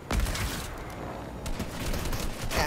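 Gunfire in the video game Fortnite sounds as a burst of rapid, crackling shots at a moderate distance, followed by scattered further pops over a busy background.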